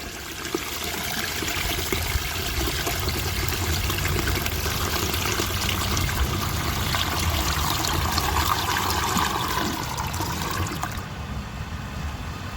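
A toilet flushes with dish soap squirted under the flapper into the flush valve, a steady rushing and gurgling flow of water close up that eases near the end.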